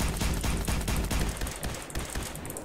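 Rapid bursts of Furious Deadeye laser rifle fire in Fallout 4 crackle in dense, overlapping volleys, steady and fairly quiet, fading slightly toward the end.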